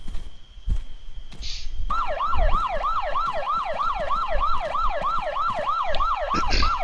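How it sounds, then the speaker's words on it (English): A video game police car siren wails in a fast, repeating up-and-down yelp, loud and steady over faint engine rumble, after a few brief clicks and a short single tone. "please use your siren lights and sirens at the same time"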